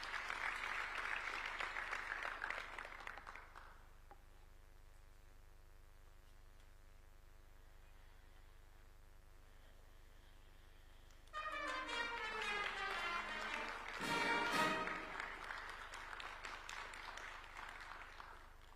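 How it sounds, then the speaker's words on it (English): Crowd applause at a swearing-in ceremony for new judges in Kenya: a burst of clapping for about four seconds fades to a hushed hall with a low hum, then a second, louder swell of clapping and crowd noise. "A round of applause for her, please."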